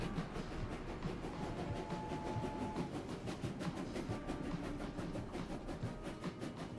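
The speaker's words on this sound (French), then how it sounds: "On arrive en train." A train arriving in the video game Clair Obscur, a steady rumbling roll with rhythmic clickety-clack beats and faint tonal squeals, continuous and fairly close.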